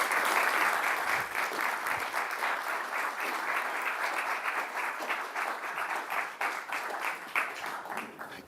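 An audience claps steadily for David Lammy MP as he comes onto the stage. The dense applause holds fairly even throughout and tapers slightly toward the end.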